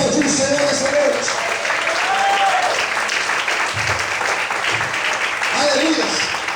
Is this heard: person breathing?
no